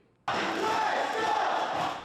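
A packed stadium crowd at the World Baseball Classic in Taiwan erupts into loud, sustained cheering and chanting after a brief quiet moment, the roar holding steady until the end.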